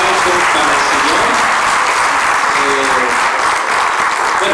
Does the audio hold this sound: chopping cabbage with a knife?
no